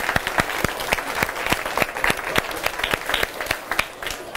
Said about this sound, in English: So that should be a round of applause